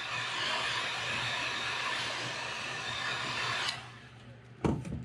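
A heat gun or hair dryer heat-sets fresh paint on a fishing lure, a loud steady blowing roar that runs close for almost four seconds, then cuts off, followed by a couple of brief knocks.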